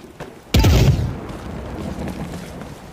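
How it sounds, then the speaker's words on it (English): A single loud grenade blast in The Cycle Frontier, a sudden heavy boom that rings out and decays into a lingering rumble. "I'm throwing grenade."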